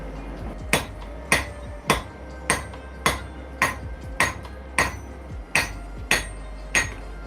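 A hammer strikes a steel knife blade being forged, with about eleven sharp ringing blows in a steady rhythm, loud and close, with no talk.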